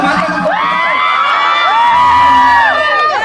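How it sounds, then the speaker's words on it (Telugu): A crowd at the RR Kitchen restaurant in L B Nagar cheers, whoops and shouts for Subha Sree, loud rising and falling voices layered together, near and continuous. "ఒకసారి శుభశ్రీ కోసం ఓవేసుకోండి"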